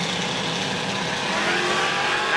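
Naturally aspirated drag race car launching hard down the strip at Roadkill Nights, its engine a loud, steady, sustained roar that builds slightly toward the end, close and continuous with no talk.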